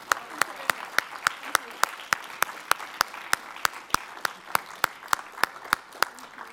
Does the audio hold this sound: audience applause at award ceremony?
yes